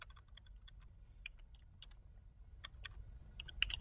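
Faint, close clicks of a computer keyboard as a command is typed in short irregular bursts over a low background hum.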